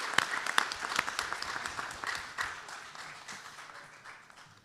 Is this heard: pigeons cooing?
no